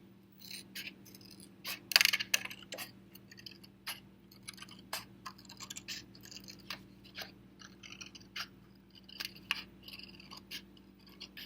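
Scissors snip through Shrinky Dink plastic charm sheet in a string of short, close, quiet cuts, irregular clicks and crunches spread across the stretch, with a faint steady hum underneath.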